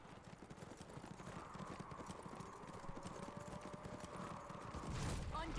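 Rapid galloping hoofbeats in the video game Darkwatch, a steady drumming rhythm under faint background sound, with a brief whinny-like tone.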